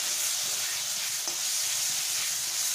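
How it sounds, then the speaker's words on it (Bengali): A masala of turmeric, chili and cumin powder fries in a pan for a cauliflower and egg curry, giving a steady, close, unbroken sizzle with a faint hiss throughout and no voices. "মশলাটাকে আমি কষে নেব"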